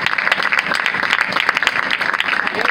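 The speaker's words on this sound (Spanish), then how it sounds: "denle un aplauso a Cristo si usted puede." A church congregation applauding during a Spanish-language worship service, dense continuous clapping from many hands, loud and close, steady throughout.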